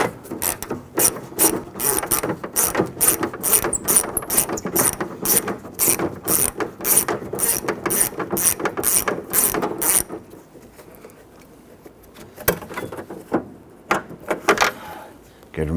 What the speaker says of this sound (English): Go ahead and remove that bolt there.